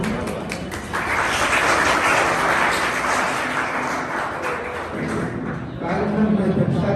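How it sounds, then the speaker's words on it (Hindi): Applause from a school audience welcoming the chief guest at a Maharishi Dayanand Saraswati anniversary function, a sustained wash of clapping that runs for several seconds under a voice speaking over it. "मैं आपसे चाहता हूँ कि उनका तालियों में आपको स्वागत करें।"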